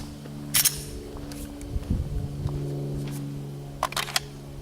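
Pistol shots during an accuracy shooting drill at a range: a sharp crack early, a softer burst mid-way, then a quick double shot near the end, with quiet room tone between.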